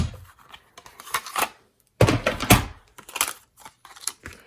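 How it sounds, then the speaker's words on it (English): A manual die-cutting machine cuts a shape from cardstock, giving a series of close crunching and ratcheting bursts with short pauses between them, with no voices over it. "I'm just gonna run this through, and that's gonna cut the shape out."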